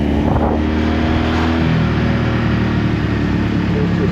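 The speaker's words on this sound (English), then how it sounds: "you just wind on the throttle and away it goes" A 1984 Honda V65 Magna VF1100C motorcycle engine pulling hard under full throttle, a loud, steady roar with harmonic whine that climbs and shifts as it runs up through the gears, alone with no talk.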